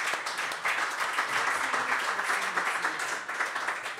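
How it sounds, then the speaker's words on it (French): Steady audience applause for a speaker at an event marking the International Day Against Homophobia and Transphobia, continuous and fairly close throughout the few seconds, with no voices over it. "Je voudrais qu'on l'applaudisse"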